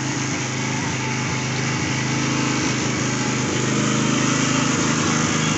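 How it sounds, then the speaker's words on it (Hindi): A power tiller engine running in an apple orchard, a loud, continuous high-revving small-engine drone with a steady pulsing beat, close up and unbroken throughout, with no talk over it. "तो अभी हमारा टीलर ऑन कर दिया गया है हमारे दोस्त के द्वारा।"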